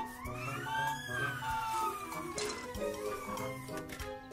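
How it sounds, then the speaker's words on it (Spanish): A toy fire truck's rising and falling electronic siren wails in the cartoonish soundscape of My Talking Tom Friends, moderately quiet, with other playful effects underneath. "Y ahí tenemos el camión de bomberos"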